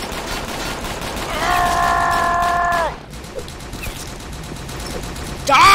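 Rapid gunfire from a handgun in the online shooter game UberStrike comes as a loud, continuous burst with a sharp weapon tone through the first half, then fades into quieter game ambience before another loud hit at the end.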